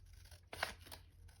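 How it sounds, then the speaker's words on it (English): Scissors snipping through paper doilies with awkward, non-straight edges, one brief crisp cut burst standing out over a quiet background hum. "These doilies are kind of hard to cut out"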